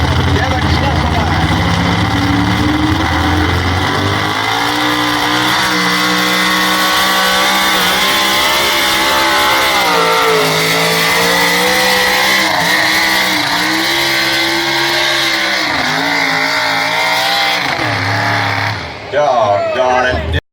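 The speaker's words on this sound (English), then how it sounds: "Building some heat in that big block Ford again to Kevin Mstpa." A big block Ford engine in a tractor pulling competition at a county fair revs loud and close, its roar rising and falling steadily for about eighteen seconds before cutting off near the end.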